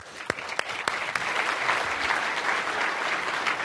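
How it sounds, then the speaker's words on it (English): An audience at a business lead-generation talk breaks into applause, opening with a few sharp separate claps that swell into steady, dense clapping from a sizable crowd, moderately distant. "everyone give her a round of applause"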